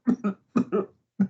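A close, loud cough in a few quick bursts: two rapid hacks, a second pair, then one more after a short pause, with no talking.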